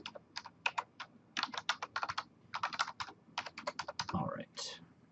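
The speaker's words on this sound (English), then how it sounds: "maybe helps to type in the correct password" A password is typed on a computer keyboard in quick, close bursts of crisp key clicks with short pauses between runs, and a voice briefly speaks near the end.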